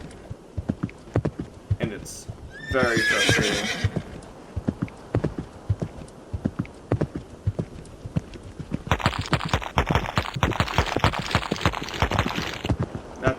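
Horse hooves clip-clop steadily in a Roblox castle obby, fast regular hoofbeats running throughout with a whinny near the start and someone talking over the gallop.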